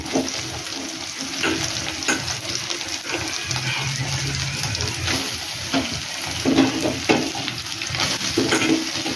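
Salt-boiled soybean chunks fry in a pan with a constant crackling sizzle, while repeated scraping strokes of a spatula stir them up close.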